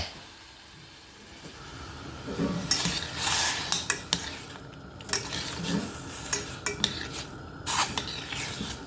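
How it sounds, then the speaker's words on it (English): A berry, sugar and cinnamon mixture with a little water in a pot on the stove for a strawberry tart, with faint sizzling and a series of sharp clinks and scrapes of a utensil stirring against the pot. "And I'm going to bring it to a boil."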